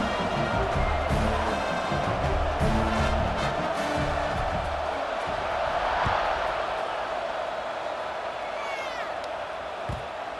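Football stadium crowd roaring at kickoff in a Minnesota game, a broad sustained wash of cheering and noise, loud and continuous, with a few sharp thumps and brief horn-like tones on top.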